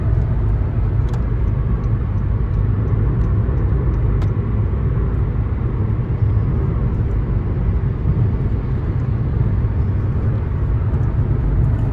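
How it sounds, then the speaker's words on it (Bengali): A 2014 Honda Vezel's engine rumbles loudly and steadily as the car accelerates, a deep, even drone that holds for around twelve seconds. "এটার যে ইঞ্জিন পাওয়ার, যার অ্যাক্সেলারেশন দিলেই বোঝা যায় যে ইঞ্জিন পাওয়ারটা কতটুকু।"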